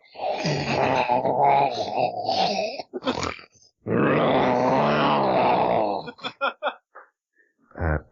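A voice imitates a judge falling asleep in a courtroom with long, loud, drawn-out snoring groans, followed by shorter breathy snorts and grunts that trail off near the end.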